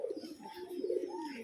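Pigeons of several breeds, kept free-flying, coo softly in low, rolling, continuous murmurs close by, with no talk over them.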